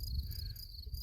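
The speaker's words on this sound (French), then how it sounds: "Vous entendez les grillons, etc." Crickets chirp outdoors in the Pyrenees mountains on the GR10 trail near Bagnères-de-Luchon, a continuous high, faint trill with no voices.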